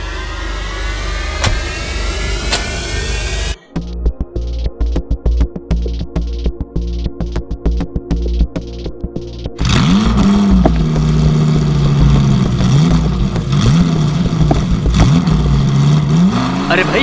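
A car engine revving hard and repeatedly with its tyres spinning freely in the air, loud and close, in choppy surging bursts that settle into a sustained roar.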